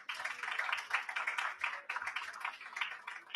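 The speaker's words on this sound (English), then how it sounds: "Can we give them a round of applause, please?" Audience applause at a business forum at COP 27, a dense, steady patter of many hands clapping at moderate distance for a few seconds.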